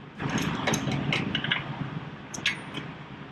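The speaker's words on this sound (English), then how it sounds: "Take your wrench, start tightening" A wrench tightens the axle nut on a 2015 Honda CTX 700 motorcycle wheel, making a close run of quick metallic ratcheting clicks and rattles, loudest at the start and again near the end, with no voices.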